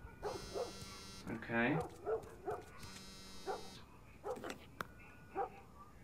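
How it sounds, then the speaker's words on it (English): Dogs bark in the video game The Last of Us, a few short barks mixed with music tones and electronic beeps while someone talks over them quietly. "Dogs are barking."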